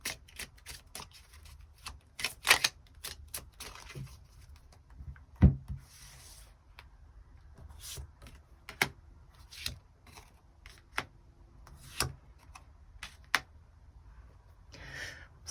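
Tarot cards being shuffled and drawn, heard as soft, sporadic riffles, slides and crisp card snaps, close and quiet with brief pauses between bursts.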